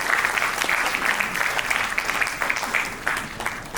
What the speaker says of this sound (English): Round of applause to show gratitude to all the alumni present amongst us.